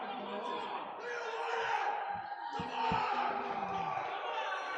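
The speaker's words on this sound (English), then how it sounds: "the crowd is shouting like crazy for Mark" Spectators at a provincial powerlifting meet shout and cheer loudly for a lifter, a dense roar of voices with whoops and a few thumps, continuous and close.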